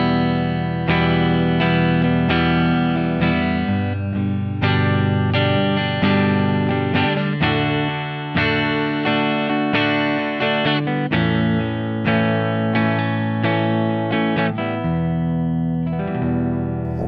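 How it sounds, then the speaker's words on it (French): Electric guitar played through a clean amp plugin on the neck pickup, with a touch of reverb, tested alongside an overdrive/fuzz pedal; a steady run of loud chords and notes rings out alone, with no talking. "un plugin de son clean avec une pointe de reverb, et avec le micro-manche"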